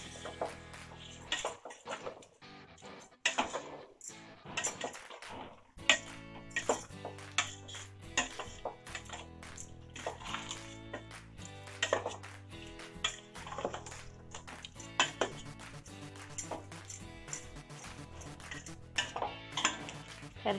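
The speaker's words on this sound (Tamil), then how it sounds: "மசாலாஸ்லாம் போட்டு மிக்ஸ் நல்லா பரட்டி விட்டுருங்க" A spoon scrapes and clinks steadily against a pot while a mutton biryani masala mixture is stirred for Thalapakatti biryani, with repeated close metallic taps and soft wet churning throughout.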